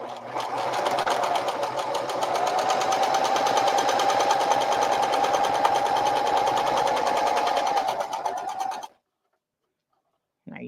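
A sewing machine stitches a tote bag in one continuous loud, buzzing run of about nine seconds, then stops abruptly into near silence.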